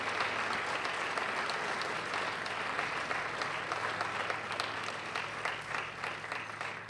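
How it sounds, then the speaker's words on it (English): Sustained applause from a conference audience for panel members at a dementia-friendly event in Bloomington, many hands clapping in an even, continuous roar that never drops out, with a low steady hum beneath. "why don't we give them a really big round of applause?"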